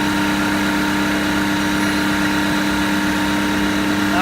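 The engine of a US Jetting JetVac 4018 sewer jetter runs at a steady, droning idle close by while pressure builds, an even hum with no voices.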